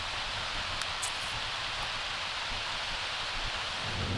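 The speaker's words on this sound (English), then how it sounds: "I told you, it's always raining here" Steady rain falls in The Sims 3 life-simulation game, a soft, even hiss of broadband patter that holds at a constant moderate level throughout, with no voices.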